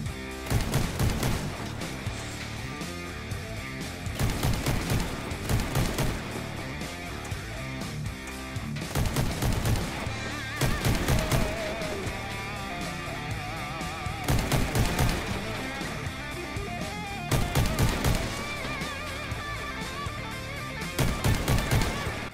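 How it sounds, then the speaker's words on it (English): Bursts of gunfire from the Spitfire shotgun in the vehicle combat game Crossout, fired in about six loud repeated volleys a few seconds apart over constant engine and battle noise. "today we're gonna try Spitfire shotgun."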